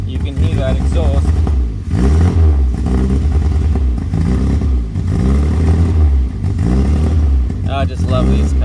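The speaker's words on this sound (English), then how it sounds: "And you can hear that exhaust." A 1969 Austin Healey Sprite idles and revs with a loud, rumbling exhaust, steady low throbbing that swells in bursts throughout.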